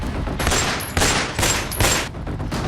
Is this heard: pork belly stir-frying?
no